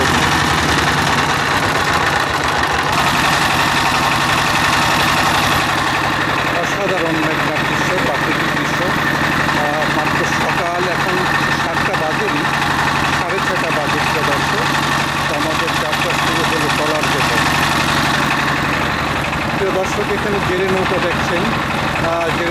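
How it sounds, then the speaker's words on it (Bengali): A river trawler's engine runs steadily on the Meghna river near Doyakanda village, a loud continuous low drone with vibration, while people talk over it throughout. "ট্রলার স্টার্ট দিচ্ছে তো আমরা যাত্রা শুরু করলাম"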